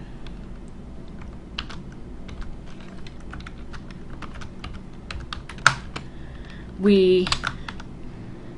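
Keys clatter on a computer keyboard as a factor command is typed into Maple math software, a run of quick light taps followed by a louder burst of rapid keystrokes near the end, with a brief spoken word.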